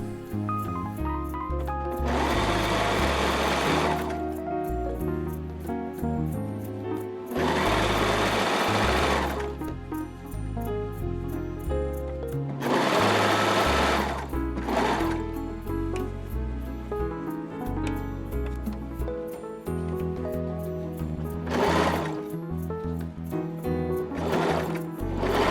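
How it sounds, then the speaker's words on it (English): A serger overlock machine sews the seams of a bodysuit in several loud, close bursts of rapid buzzing, with short quiet pauses between runs. "Now we're just going to take it over to the serger and we're going to start serging the rest of our seams."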